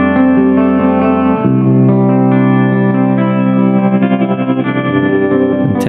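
A sustained electric guitar chord rings through a PreSonus Studio One Ampire amp module, its tone pulsing with a wavering vibrato that grows more noticeable toward the end.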